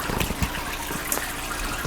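Tap water steadily pouring and splashing into a nearly full bucket during a freshwater aquarium water change, a continuous close trickling gush with no voices.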